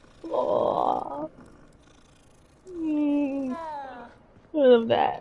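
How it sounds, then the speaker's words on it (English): A cat in the video game Hogwarts Legacy purrs while being petted, a soft close rumble under a player's excited, high-pitched talk that fills most of the moment. "I'm gonna pet the cat again."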